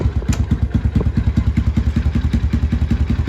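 A Yamaha TTR90 dirt bike engine runs steadily after a carburetor clean and valve adjustment, its loose exhaust giving a fast, even thumping pulse, close and alone.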